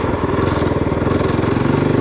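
Kove 450 Rally adventure motorcycle with a single-cylinder engine idling steadily after starting, close and fairly loud, a rapid even thump throughout with no talk.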